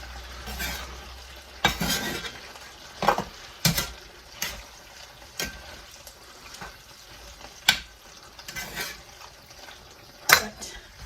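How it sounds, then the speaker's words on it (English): Spaghetti sauce stirred in baking dishes, with a utensil scraping and knocking against the dish in irregular bursts, close by, with no talking. "I'm going to give those a good stir, what I can."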